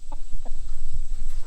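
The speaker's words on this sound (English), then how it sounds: "The chickens are getting into the goats' food." Chickens cluck near goats' food on a farm, a few short, close clucks over a low outdoor rumble.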